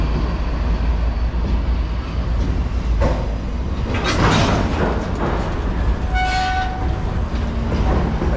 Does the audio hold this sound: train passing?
yes